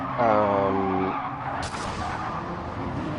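Race car tyres skidding and squealing in a sim racing game, a sustained screech over steady engine noise, heard after a brief tonal rise at the start and without speech.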